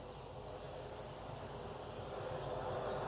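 Jet engines of a Ryanair Boeing 737 MAX 8-200 roar steadily during takeoff, a broad, distant rumble that swells slightly louder toward the end, with no voices.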